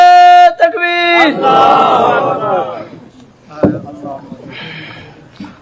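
At a religious gathering with a cleric, one amplified voice holds a long, drawn-out chant, then a large crowd roars back in unison for about two seconds. The roar fades into scattered shouts and a few brief cries.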